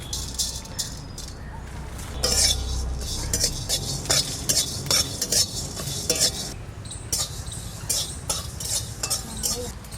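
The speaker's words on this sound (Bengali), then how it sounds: "একটু ধনে আর একটু জিরে আমি একটু ভেজে নেব" Coriander and cumin seeds dry-roasting together in a kadai, with steady scraping and stirring, light clinks of a metal spoon against the pan and a faint background hiss, continuous and close throughout.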